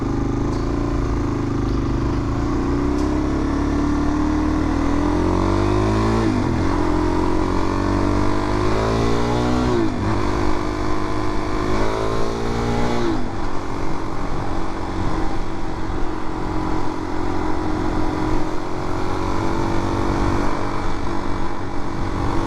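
A 2022 Suzuki DRZ400 motorcycle running on premium gasoline drones loudly and continuously while being ridden, its engine pitch climbing and dropping through several gear changes, with steady wind rush underneath.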